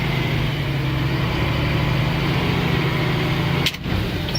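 A truck engine running steadily in gear on level ground, a loud continuous low drone with a brief dip near the end.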